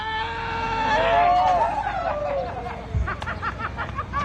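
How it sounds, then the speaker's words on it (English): A man lets out a long, wavering scream while bungee jumping at a UK election campaign stop, rising loud at first and then fading as he spins on the cord, with faint crowd murmur behind. "there's a big, long scream coming up."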